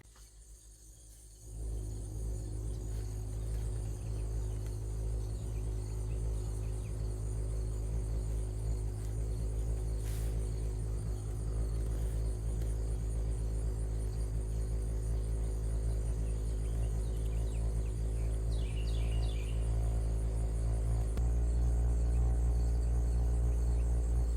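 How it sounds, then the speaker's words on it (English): A 1987 Lennox Pulse furnace with a large muffler runs outside the house, a loud, steady low hum and throb that starts after a brief quiet moment and holds constant, with no one talking. "a viewer want to hear this 1987 Lennox Pulse from the outside because it's got a giant muffler on it and they're super noisy"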